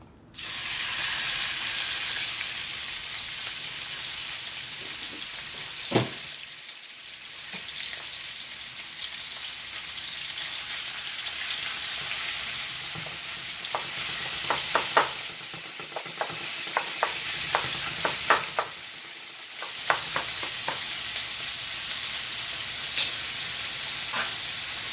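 Chicken sizzles and crackles in hot vegetable oil during a stir-fry, a constant hiss with scattered pops and occasional stirring scrapes, close up.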